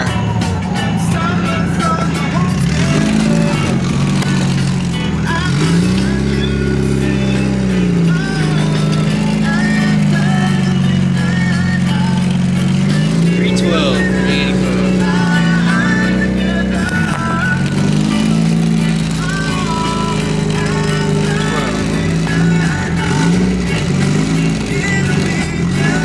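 A car drives toward a gas station, its engine droning steadily with rising and falling revs as it shifts through gears, loud and close from inside the cabin.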